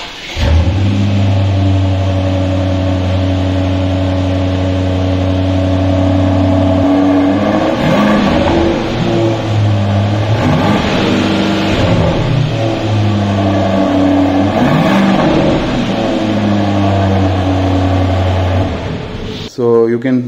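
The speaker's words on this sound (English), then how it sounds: "we'll take a listen to that exhaust note" A 2021 Aston Martin DBX V8 idles with a deep, steady exhaust burble, then is blipped through several loud revs that rise and fall before settling back, recorded close with no talk.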